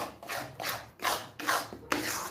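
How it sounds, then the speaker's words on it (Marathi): Wheat flour roasting in a pan for gul papdi is stirred with a spoon, producing four or five rhythmic scraping strokes, close and fairly loud, with no talk. "मिश्रण हलवत राहायचे"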